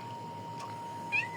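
A cat lets out one short, clear meow near the end, close by over quiet background hiss.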